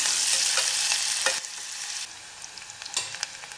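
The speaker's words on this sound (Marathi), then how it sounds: "कांदा छान गुलाबी रंगावर एक अर्धा मिनिट आपण परतून घेऊया।" Onion sautéing in a pan until pinkish, a loud bright sizzle that eases after about two seconds, followed by a few light stirring scrapes and clicks close by, with no voices.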